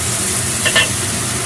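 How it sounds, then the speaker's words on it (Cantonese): Salted fish frying in a wok as it is stir-fried, giving a steady bright sizzle with a couple of brief scraping stirs near the middle, no voices. "就會爆香埋啲鹹魚"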